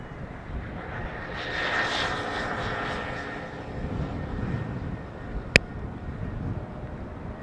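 A fixed-wing airliner arrives at Amsterdam Schiphol Airport on a windy evening, its engine roar swelling and fading over steady wind rumble, with one sharp click near the end.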